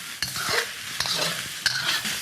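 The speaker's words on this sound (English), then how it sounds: "This is frying up very nicely." Thai fried rice sizzling in a pan as it's stirred, with soft scraping strokes and a few sharp utensil clacks against the metal over a quiet, steady fry.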